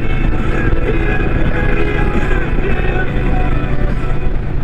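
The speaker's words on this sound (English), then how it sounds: "It is hard to hear over all the other wind noise and shit though." Loud, constant wind rush roars over the low engine drone of a Harley-Davidson Street Glide ST or Low Rider ST during a test ride at road speed, buffeting steadily without letup.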